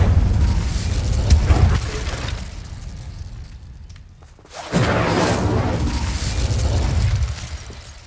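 The Incendio fire spell in the video game Hogwarts Legacy: a loud, roaring blast of flame that dies down briefly and then surges again into a second sustained burst.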